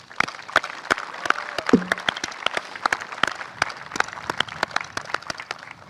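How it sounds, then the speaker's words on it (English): Audience applause at a US Army ceremony reactivating the 95th Combat Support Sustainment Battalion, heard as scattered, fairly sparse claps with distinct individual hand strikes across the whole stretch. "Let's clap it up, please."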